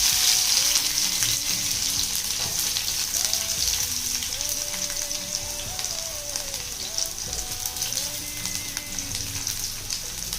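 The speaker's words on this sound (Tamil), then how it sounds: "எண்ணெய் சூடானதும் ஃபஸ்ட்டு கிராம்பு, பட்டை, பிரியாணியில் எல்லாம் போட்டதுக்கப்புறம் கட் பண்ணி வச்சுருக்க வெங்காயத்தை ஆட் பண்ணிக்கிறேன்." Chopped onions hit hot oil already holding cloves and cinnamon for a Chettinad pepper chicken fry, producing a continuous watery hiss and crackle, steady and close throughout, with faint music underneath.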